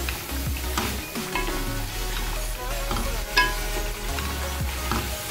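Yogurt fries with nihari meat in a pot, a continuous close sizzle layered with stirring scrapes and a low steady hum running underneath throughout.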